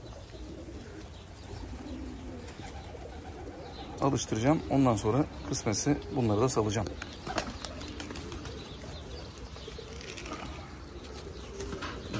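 Pakistani high-flyer pigeons coo in a cluster of rolling, rhythmic calls close by, rising for a few seconds over an outdoor background hum while someone talks.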